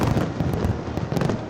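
New Year fireworks display at Kim Il-sung Square in North Korea: dense, continuous crackling and popping bursts with overlapping booms, loud and sustained throughout.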